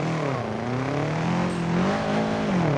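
A Subaru car engine in the driving game BeamNG Drive drones steadily, its tone sliding gently up and down as it runs, close and alone.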